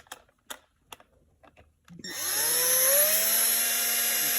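A power drill bores into a part of a C6 Corvette sun visor vanity lamp, starting after a few light clicks and then whining steadily and loudly, close by, until the end.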